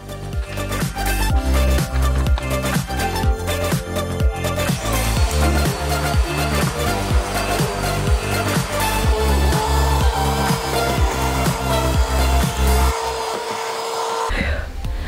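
A vacuum cleaner runs loud and close during a household cleaning session, a steady, continuous motor roar that holds almost unchanged until it cuts off near the end.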